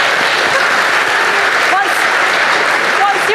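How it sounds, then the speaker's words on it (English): A crowd applauds steadily and fairly loudly at an event, a dense unbroken wash of clapping with a few faint voices or whistles through it. "That deserves a round of applause."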